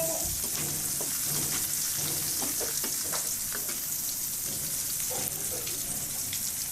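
Shrimp frying with salt, ginger and garlic in hot oil, a steady close sizzle with scattered crackles and occasional stirring scrapes throughout.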